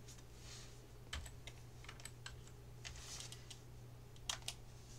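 Typing on a computer keyboard while entering values in AutoCAD 2010: a quiet run of irregular key clicks, close and faint over a low hum, with a couple of sharper taps near the end.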